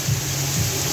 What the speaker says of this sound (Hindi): बारिश बहुत ही तेज बारिश हो रही है